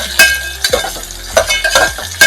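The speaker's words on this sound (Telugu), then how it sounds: "ఇప్పుడు ఈ వెజిటేబుల్స్ అన్ని వేసుకుంటున్నాను. క్యారెట్, బీన్స్ అన్ని వేసుకొని ఇలా బాగా కలబెట్టుకోవాలి." Carrots, beans and onions fry in a pan for a vegetable pulav while being stirred, with a steady close sizzle broken by several sharp scraping strokes of the spoon against the pan.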